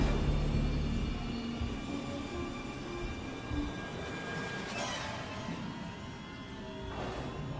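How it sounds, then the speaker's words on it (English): A train arrives in the Alien: Isolation video game as a loud, continuous low rumble, with faint metallic squeals and a whooshing swell late in the sequence. No voices. "not gonna move at all while we wait for this damn train"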